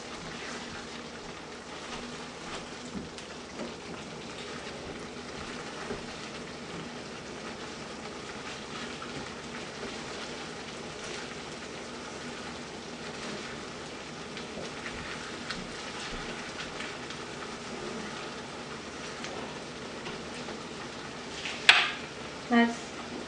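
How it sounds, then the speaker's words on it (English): Brinjal (eggplant) pieces sauté in a pan for a peanut curry, giving a steady, even sizzle throughout, with a brief clatter near the end. "Now I'll add in my brinjals. Give it a good stir. Saute it for another 2 minutes."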